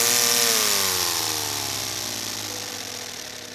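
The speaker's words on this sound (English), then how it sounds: "The engine spins a little longer" A 3D-printed Wankel rotary engine driven by compressed air spins down alone, its whirring whine steadily dropping in pitch and fading over a few seconds.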